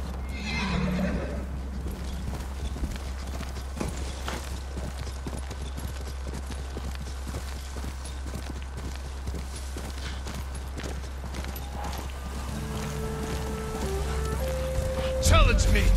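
In Ghost of Tsushima a horse trots with steady clopping hooves over a low rumble, and the horse neighs at the start and again near the end, while a voice speaks briefly.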